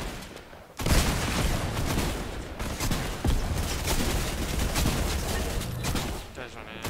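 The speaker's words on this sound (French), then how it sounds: "ça tire à l'intérieur" Rapid bursts of gunfire in a Fortnite escape-game map, coming from inside a building as a loud, continuous crackling barrage that starts abruptly and keeps going for several seconds.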